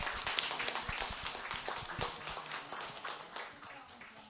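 Scattered applause from a church audience greets a young child receiving a Sunday school kindergarten completion certificate; the uneven claps from a small group fade gradually, and voices mingle faintly in the background.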